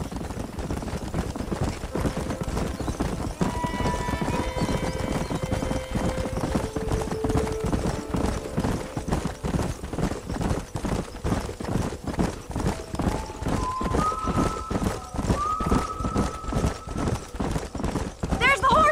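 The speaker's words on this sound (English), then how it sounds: "There's the horses!" A herd of wild horses gallops in the Red Dead Redemption open world, rapid hoofbeats drumming steadily throughout with occasional neighs, beneath shouted voices and a sustained musical score.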